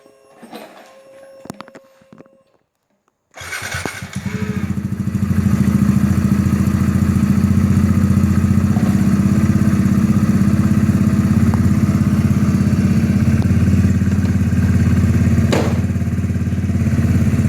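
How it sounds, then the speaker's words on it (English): After a few faint clicks, a Kawasaki Z125 Pro motorcycle with a Chimera exhaust cranks and fires up loudly, then settles into a steady, rumbling idle close by. "let's fire it up and see what the Chimera sounds like"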